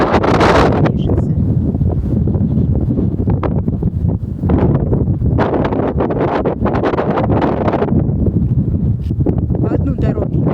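Strong wind ahead of an approaching storm buffets the microphone in loud, continuous gusts with rumbling bursts throughout, and a voice talks over it.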